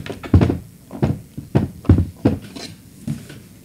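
A shipping box being opened yields a series of hollow cardboard thunks and taps, about seven distinct bumps in an uneven rhythm, close and fairly loud.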